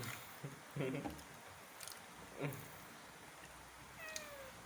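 A cat meows a few times in short, moderately loud calls, with soft background noise and a brief rising squeak near the end.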